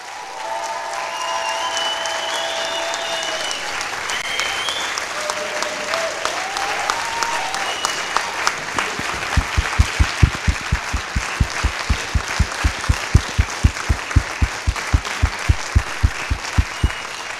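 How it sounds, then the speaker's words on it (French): Audience at the final of a French speaking competition applauding the finalists, a dense, steady clapping from a room full of people, with a rhythmic unison beat emerging partway through. "je voudrais d'abord vraiment féliciter tous les finalistes et qu'on les applaudisse tous."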